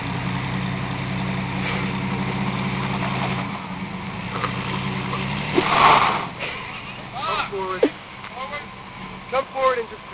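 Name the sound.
truck engine idling while reversing out of a creek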